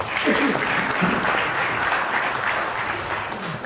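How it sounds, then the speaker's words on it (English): A big, loud round of applause for a minister at a UNESCO event in France, steady crowd clapping filling the whole stretch with faint voices mixed underneath. "Can you give our Minister please a big round of applause?"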